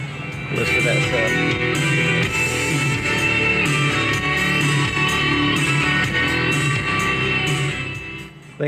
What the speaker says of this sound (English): Thing's got a killer sound system.